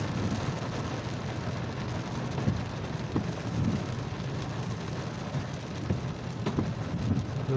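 Hail and rain fall in Riyadh as a steady, dense outdoor hiss, with scattered sharp ticks of hailstones striking the ground and no voices.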